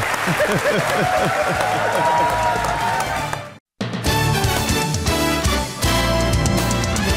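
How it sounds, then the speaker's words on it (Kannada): An audience at a televised courtroom-style talk show breaks into loud, sustained applause, cut by a brief silence midway before the clapping resumes just as strongly. "ಇವ್ರಿಗೋಸ್ಕರ ನಾನು ಚಪ್ಪಾಳೆ ತರ್ತಾ ಇದ್ದೀನಿ."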